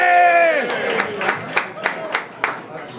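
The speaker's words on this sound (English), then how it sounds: "Give them a round of applause." At a St. Patrick's Day party, a speaking voice gives way to applause: sparse, distinct claps at a steady pace that fade out quickly.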